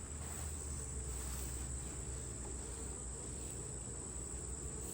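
Honeybees swarm around an opened colony during a hive inspection in an apiary, making a steady, dense buzz that runs evenly throughout without any talk.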